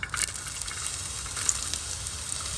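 Oil heating in a hot pot for a traditional Goan dish, giving a steady, soft sizzle and faint crackle that runs unbroken through the moment without any voices.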